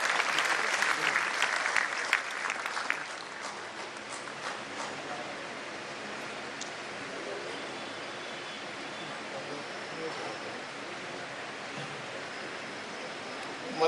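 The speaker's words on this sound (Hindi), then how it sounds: "जोरदार तालियों के बीच स्वागत कीजिए परम आदरणीय श्री नितिन" An audience at a road and bridge construction seminar applauds to welcome minister Nitin Gadkari. The crowd's clapping is loudest for the first few seconds, then settles into a long, even roar of applause.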